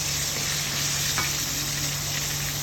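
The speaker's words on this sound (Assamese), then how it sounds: "এয়া মই মাছৰ মাথাকেইটা ফ্ৰাই কৰি ল'লোঁ।" Fish heads fry in hot oil in a pan, giving a steady, close, loud sizzle with a constant hum beneath and no speech.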